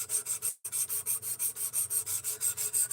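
A D2 steel knife blade is drawn by hand across a sharpening stone in steady, rhythmic rasping strokes, about a dozen even passes close to the microphone with one brief pause near the start and no talk.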